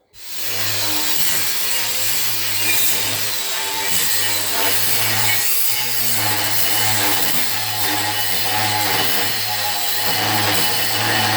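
Metal square stock being cut with a power saw, a loud, steady cutting roar with a low hum underneath that runs unbroken for about eleven seconds, close up and with no talk.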